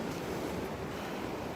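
Wind rushes and buffets outdoors on a walk in Australia, a steady roaring blast that hits the microphone, with no speech.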